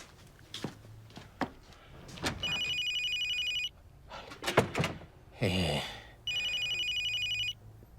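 A mobile phone rings twice with a steady electronic ringtone between footsteps, door thunks and brief voices, fairly close and clear.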